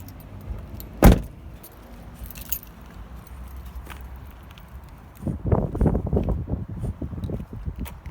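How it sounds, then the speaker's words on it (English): Keys jangling while unlocking an underskirt side locker on a 2015 Autosleeper Nuevo motorhome: a sharp clink, then a burst of metallic rattling and fumbling close by. "Better get the keys actually"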